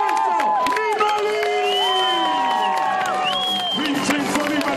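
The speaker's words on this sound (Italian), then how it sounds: "l'applauso per Vincenzo Nibali!" A crowd at the Giro d'Italia start in Sansepolcro applauds and cheers cyclist Vincenzo Nibali, with clapping, whoops and shouts spread across the scene while a voice talks over the noise.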